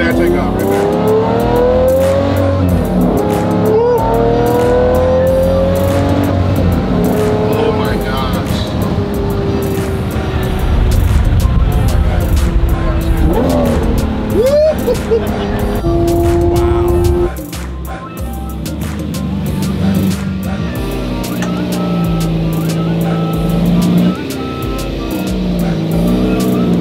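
A car on a test drive accelerates hard, its engine rising and shifting through gears in a loud, continuous drone with a possible tire squeal, while people inside talk over it throughout.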